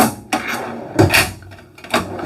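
High-end drawers in a Living Vehicle HD30 RV slide and clunk, with three distinct, close, hard knocks spaced about a second apart.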